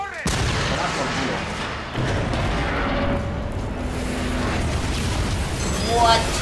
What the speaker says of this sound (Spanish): ¿Has visto un pedazo de explosión ha salido o qué?